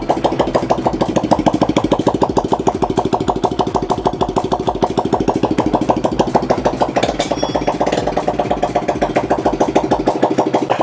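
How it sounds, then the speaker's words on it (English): A Grom motorcycle's small single-cylinder engine runs loud and raw with the exhaust removed, a steady rapid popping rumble close by, briefly revving near the end. "whenever anyone does an exhaust on their bike, they always do the straight pipe check"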